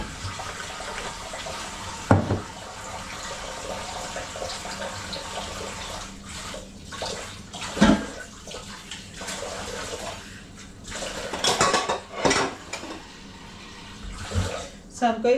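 Water pours into a large cooking pot for a githeri stew in a home kitchen, a continuous splashing rush with a few louder bursts, while a voice talks over parts of it.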